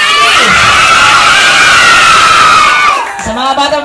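Children shout and cheer together at a first birthday party, a loud, sustained crowd of high excited voices that swells and then breaks off into scattered squeals and single shouts near the end.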